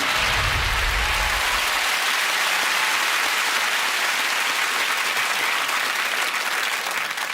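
Loud, sustained applause from a large television studio audience, thick and continuous for several seconds with crowd noise underneath, a low rumble at the very start, and no let-up.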